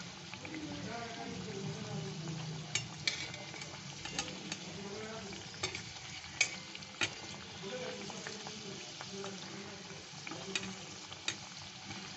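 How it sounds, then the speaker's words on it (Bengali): Mawa kachori fry slowly in oil with a steady, dense sizzle, broken by scattered sharp pops and occasional scraping taps from stirring. "একটু সময় নিয়ে ভাজতে হয় এগুলো ধীরে ধীরে একটু একটু ভাজতে হয়"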